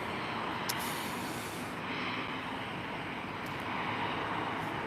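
A Boeing 737-900 airliner taxiing at Minneapolis–St. Paul airport in winter, a steady, distant engine rumble and hiss that holds evenly throughout, with no voices.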